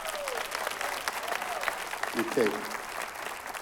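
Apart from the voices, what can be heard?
congregation applause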